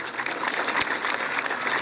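Applause from a crowd lining a civic-military Independence Day parade, greeting a gaucho group as it passes; a brief, fairly faint wash of clapping with a diffuse outdoor feel.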